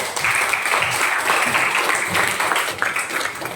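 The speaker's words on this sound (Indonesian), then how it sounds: "Ya, tepuk tangan" A classroom of students applauding together, a dense, even wash of clapping that holds steady for a few seconds, close and fairly loud, with no speech over it.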